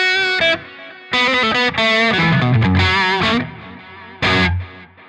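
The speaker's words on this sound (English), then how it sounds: "Here's a delay. Stereo delay." Distorted electric guitar through the Neural DSP Archetype: Rabea plugin's stereo delay, notes and chords ringing out with echoing repeats trailing after each phrase, loud and close, with no talking.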